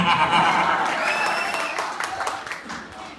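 A poetry-event crowd at a comic kavi sammelan breaks into loud, dense applause that swells and then gradually tapers, a few scattered voices mixing in.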